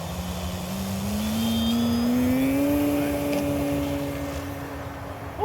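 An electric RC Cessna 182 model plane with a 2000 mm wingspan, about 11 lb on 4 cells, whines as it taxis, its tone rising steadily and then easing off, heard at moderate distance with no talking.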